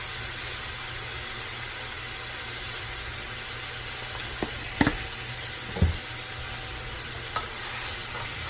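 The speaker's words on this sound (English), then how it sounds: "we're just gonna brown this meat up and move on to the next step" Seasoned ground beef with Worcestershire browns in a pan for chili, giving a low, even sizzle with a few sharp scrapes and clinks of a utensil against the pan.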